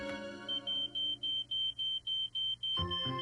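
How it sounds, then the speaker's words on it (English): A smoke detector sounds a shrill, high electronic alarm in a regular pulsing pattern, about eight evenly spaced beeps close by, before a voice begins talking over the last one. "Please install smoke detectors, test them regularly, and have a plan of escape."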